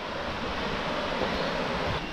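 A waterfall in the Vosges mountains rushes in a steady, loud, continuous roar of falling water, heard alone without voices.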